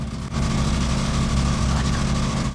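A police car engine runs steadily after decades sunk in a marsh, a loud, continuous low rumble close by that holds at one level throughout with no voices.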